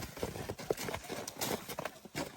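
A mare's hooves clip-clop in a quick, uneven rhythm on firm ground, fairly close but soft.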